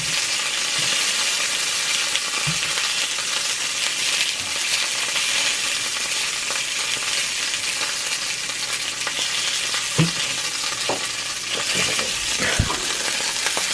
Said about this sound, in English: While my sausages are browning